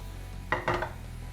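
Vegetables being stir-fried in a pan: chopped beans, carrot, capsicum and finely shredded cabbage. A couple of short scraping clatters of a spatula against the pan stand out clearly over a quiet background, with no talking.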